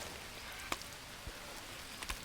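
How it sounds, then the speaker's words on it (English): Faint, steady rain hiss in the video game Green Hell, with a few soft drip-like taps scattered through it. "that rain seems to be going on for a bit."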